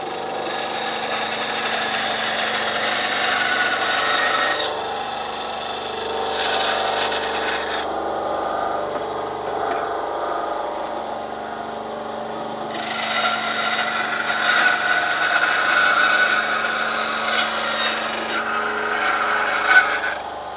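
An Einhell TCSB 200 band saw cuts through a piece of wood, giving a steady, close rasping drone over its smooth motor hum, with louder bursts as the blade bites in and then eases off.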